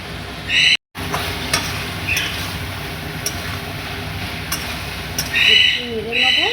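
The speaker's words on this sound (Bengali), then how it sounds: "একটু নেড়ে নেবো" Papaya chorchori being stirred with spices in a pan, a steady sizzling hiss with scattered scraping strokes and one brief dropout, a few sharp clinks near the end.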